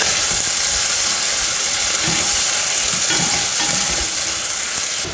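Chicken with spices and garlic cooks in a hot pan, a loud, dense, continuous sizzle with crackling spatter and occasional stirring scrapes, close and unbroken.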